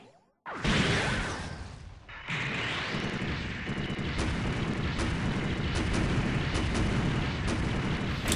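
Missile launches in the SD Gundam Online video game from a Gundam Leopard Destroy with G-Falcon, a sharp burst followed by a dense, sustained roar of rapid shots filling the mix, loud and alone without talk.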